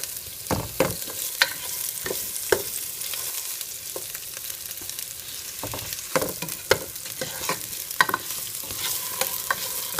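Chunks of chicken being stirred in olive oil in a frying pan for Japanese chicken curry, with a steady sizzle and repeated sharp scrapes and clacks of the utensil against the pan, close and alone.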